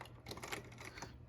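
A Nakajima WPT-66 electronic word processing typewriter types a quick, uneven burst of clattering keystrokes, fairly faint and close.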